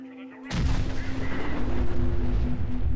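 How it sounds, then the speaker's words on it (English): A landmine detonates in Fallout 4 at the General Atomics Galleria robot theme park, a sudden loud blast breaking over a low hum and leaving a long rumbling, crackling roar that fills the rest of the moment. "I forgot how large those explosions actually are."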